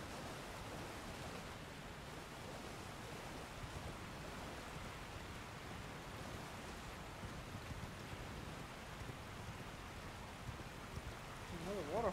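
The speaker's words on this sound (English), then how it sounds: "Waterfall, what the heck?" A waterfall rushes in Elden Ring, a dense, steady broadband roar of falling water that holds even and unbroken, with a faint tonal flutter near the very end.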